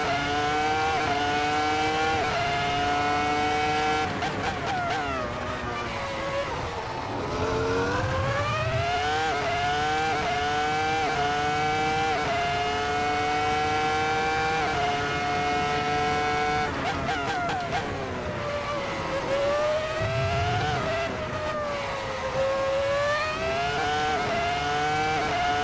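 A Ferrari F2004 Formula One car's engine in a racing simulator, a high, sustained whine that climbs and drops through gear changes for the whole stretch, loud and steady with brief dips on downshifts.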